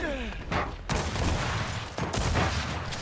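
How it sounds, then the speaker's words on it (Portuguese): Rapid automatic gunfire from the video game Gears 5, dense bursts of shots rattling loudly across the whole stretch with a couple of sharper volleys, mixed with game sounds. "Tem um cara atirando em mim aí."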